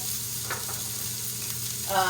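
Spices sizzling in hot oil in a nonstick pan over medium heat, giving a steady close frying hiss with faint stirring scrapes and a brief louder flare near the end.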